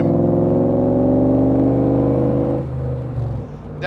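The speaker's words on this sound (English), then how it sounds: "So she's shifting up nice, she's shifting down nice" A 1965 Shelby Cobra Backdraft RT4 drives with a loud, steady engine drone heard from close by. Near the end the pitch drops and the note changes as it shifts gear.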